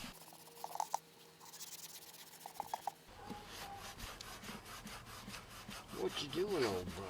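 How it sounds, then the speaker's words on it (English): Scrubbing a John Deere 110 lawn tractor front-end part by hand with a medium Scotch-Brite pad, making repeated close rasping strokes with a brief pause before a steadier rubbing texture. "now I'll do the medium Scotch-Brite pad"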